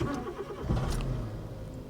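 A cheap used UK car with a heavy clutch and no rev gauge starting up: a short cranking burst settling into a steady low idle, close and fairly loud, with no talking.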